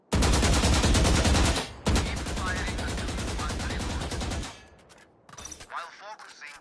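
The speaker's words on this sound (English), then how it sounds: "shoot the central target with sustained fire" Sustained automatic rifle fire at a target in Valorant, a loud rapid stream of gunshots with a brief pause before firing resumes, then tapering into quieter game effects and faint background chatter.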